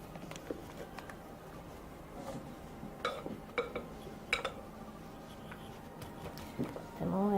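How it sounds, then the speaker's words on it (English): Utensils clink and tap against a bowl as egg whites are added for a chocolate soufflé, a scatter of light, quiet knocks and scrapes with a voice talking faintly in the background. "now I'm going to add the rest of the egg whites"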